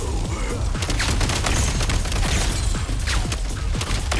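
Dense barrage of frag grenade blasts and gunfire-like bursts in a hectic video game battle, loud and continuous with rapid overlapping booms throughout.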